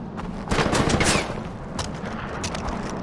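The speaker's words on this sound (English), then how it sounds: "I got a mounted gun." A mounted machine gun rattles off bursts in Far Cry 4, dense close gunfire peaking early and then continuing in sharper, spaced shots, loud with no voices over it.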